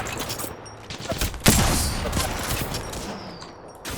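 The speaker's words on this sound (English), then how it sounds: "Opening fire." Rapid gunfire in the video game Apex Legends, a dense crackle of overlapping shots with one sharp, louder report near the middle, then sustained firing that slowly thins out.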